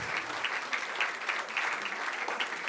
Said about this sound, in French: Applaudissements, je vous prie